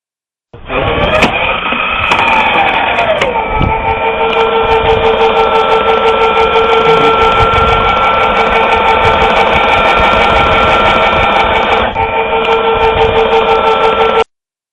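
A railway point machine runs during an obstruction test with a 1.6 mm obstruction near the switch rail toe, its electric motor whining loud and steady for about thirteen seconds after a brief start-up, with a slight shift near the end.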